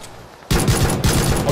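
Gunfire from the video game PUBG cuts in abruptly after a quiet moment: rapid, loud automatic bursts with a brief gap, dense and harsh, with no talking.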